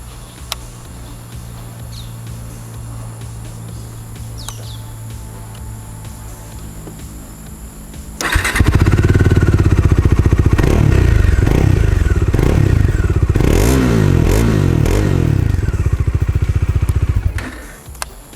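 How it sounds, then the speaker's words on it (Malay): A Modenas Dominar D400 UG motorcycle sits quietly before its engine fires up at about eight seconds, then idles loud and close with a rough, throbbing exhaust note, occasional revs and mechanical clatter, before cutting off near the end. "sekarang saya akan turn on engine dan kita dengar bunyi yang saya kata memang"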